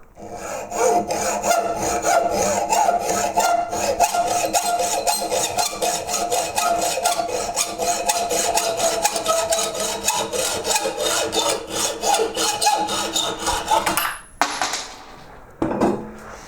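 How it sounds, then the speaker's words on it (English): A hacksaw cutting through a soft metal nail, close rhythmic back-and-forth rasping strokes sustained for most of the clip, ending with a few light clinks. "So in here, with my trusty hacksaw."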